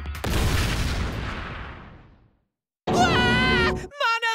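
A loud explosion bursts in Danganronpa V3: Killing Harmony and rumbles away over about two seconds, then goes silent before a shrill voiced outcry follows.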